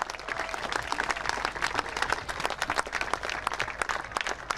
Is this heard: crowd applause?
yes